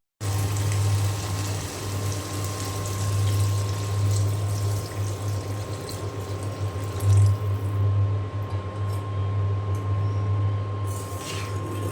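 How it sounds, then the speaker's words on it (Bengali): Water is poured into a pan of fried spices for a shrimp curry with brinjal and taro, a continuous close gushing splash lasting several seconds over a steady low hum. "ঝোলের পানি দিয়ে দেব"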